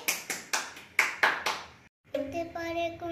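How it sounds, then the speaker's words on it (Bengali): Hands clap six times in a steady, moderately loud rhythm, then stop. After a brief pause, a voice or tonal sound follows. "হাততালি দাও"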